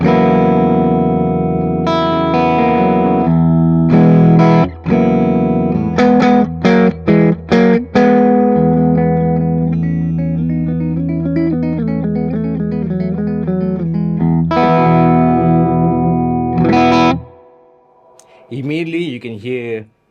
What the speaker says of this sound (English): if you just move that into the normal input jack, you're going to hear the gain really bump up